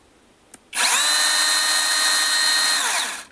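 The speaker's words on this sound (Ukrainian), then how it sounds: "І пилочка наша працює." A Grosser GCS 860S cordless saw starts after a click and runs steadily at high speed for about two and a half seconds, then winds down.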